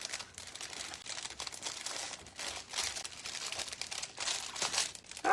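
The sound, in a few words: cellophane bag crinkling while tying yarn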